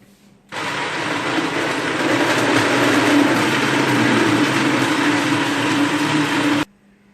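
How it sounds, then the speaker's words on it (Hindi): A blender blending mixed fruit and ice roars at full power for about six seconds, loud and steady, starting and stopping abruptly. "इसको ऐड करने के बाद मैं ब्लेंडर को चला दूंगी।"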